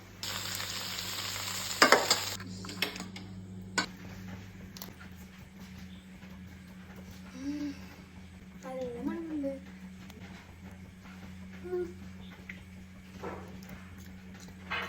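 Karimeen (pearl spot fish) fry in a pan with a low, continuous sizzle, joined by a few sharp clatters of stirring or handling near the start.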